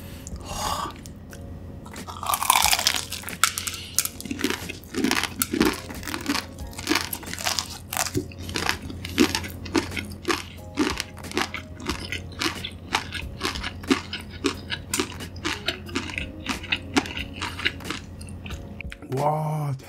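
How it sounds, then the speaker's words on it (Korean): Crispy fried chicken cutlet with a Ppushu Ppushu seasoning coating is chewed close to the microphone, giving dense, rapid crunches in a steady rhythm for about twenty seconds, with no talking. "치킨가스 엄청 바삭할 것 같아요"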